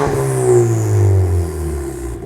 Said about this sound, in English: We'll give it some revs so you guys can hear it